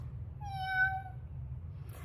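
A single clear cat meow, close and distinct, rising then falling over about a second against a low background hum.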